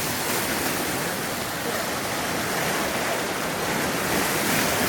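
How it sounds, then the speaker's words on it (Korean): Steady roar of surf breaking along the shallow shoreline of Dadaepo Beach in Busan, a continuous broad wash of water with no voices, loud and close throughout. "수심이 낮고 파도가 여기서부터 길게 쭉"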